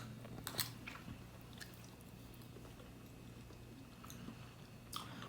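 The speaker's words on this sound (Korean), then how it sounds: "한번 초콜릿 맛도 먹어보겠습니다." Someone bites and chews a chocolate-flavored snack cookie, with a few crisp crunches near the start and at the end and soft, faint chewing in between.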